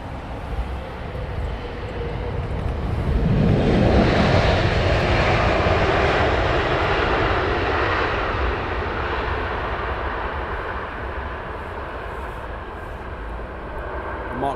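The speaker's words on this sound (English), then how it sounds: "Next heavy. American Dreamliner." An American Airlines Boeing 787 Dreamliner landing on runway 27R at Heathrow, its engine roar swelling as it passes close by and then slowly fading into a long rumbling tail, with no talking.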